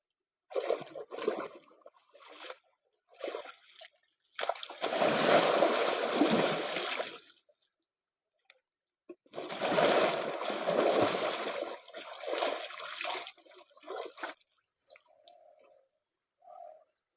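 Water splashes outdoors on a cold winter morning in two long, loud bursts of rushing spatter, separated by quieter gaps with softer dribbles and what may be a pigeon's coo.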